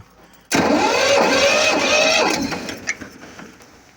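A Kentavr 200V walk-behind tractor engine is cranked over, a sudden loud mechanical churning that runs for about two seconds before winding down and fading, with a few clanks at the end.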